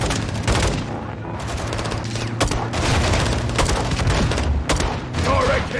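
Rocket launcher fire and heavy combat in Modern Warfare 2, a continuous barrage of booms, rattling gunfire and sharp bangs close up, with voices shouting under the noise throughout.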